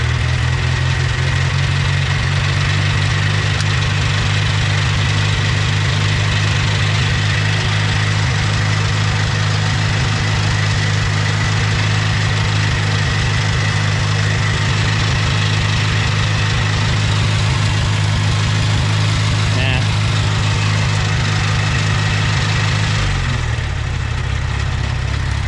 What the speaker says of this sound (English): I'm going to throttle it up.